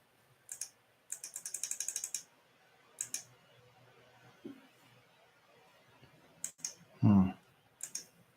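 A computer mouse clicks in short bursts, single clicks and a rapid run of clicks, close and crisp in a quiet room, with a brief vocal sound among them.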